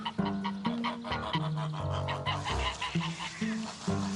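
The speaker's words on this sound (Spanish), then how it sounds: "Y llevaban los gansos al mercado. Intentar que avancen por este huerto ya cuesta lo suyo." A flock of geese honks repeatedly while being herded through a garden, the nasal calls overlapping in a busy, rhythmic chorus heard close and fairly loud.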